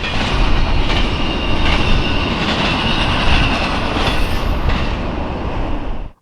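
A freight train hauled by old EMD diesel locomotives rumbles past close by, loud and continuous, with rattling cars and clattering wheels before cutting off abruptly.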